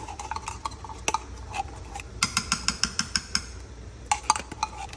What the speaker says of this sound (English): All right, and then stir that in good.